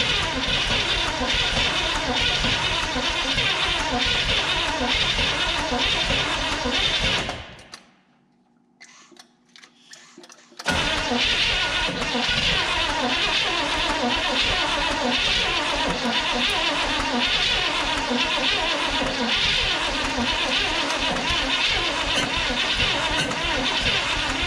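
A 1974 Chevrolet 4x4 farm truck, abandoned for fifteen years, cranks on its starter in a long rhythmic churn without firing, stopping for a few seconds of near silence before cranking resumes just as steadily.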